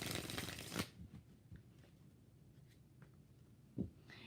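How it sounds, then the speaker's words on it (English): Tarot cards are shuffled by hand up close: a crisp riffle burst at the start, then quieter scattered card taps and slides, with another short sharp flick near the end. "2 more shuffles."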